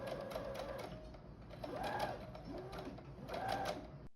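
A sewing machine stitches around halter maxi dress pieces at a half-inch seam allowance, running steadily for about four seconds with speed swelling in two bursts; no one speaks.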